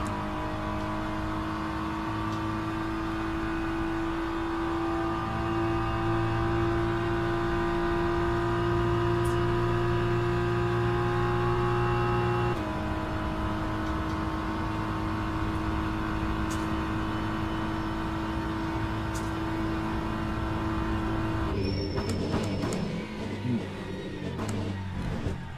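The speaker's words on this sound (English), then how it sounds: "Gonna have another hypercar coming through." Hypercar engine in the Le Mans Ultimate racing game, a sustained high-pitched drone that holds steady, shifts pitch partway through and ends in a brief burst of clatter.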